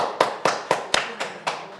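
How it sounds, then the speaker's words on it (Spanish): Six sharp, evenly spaced hand claps at a Bolivian political interview, crisp and close, with no crowd wash and almost no talking. "yo quiero darle un aplauso"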